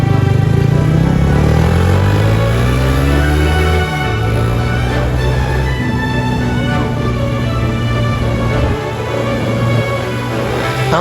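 Motorcycle riding along a highway, its engine droning loud and steady with gear shifts and rising revs under constant wind rush.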